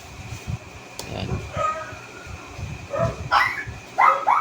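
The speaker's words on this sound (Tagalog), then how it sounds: "Pasensya na po, maingay yung mga aso namin." Several dogs bark and yip in short, scattered bursts at moderate distance, mixed with low background noise and some talk.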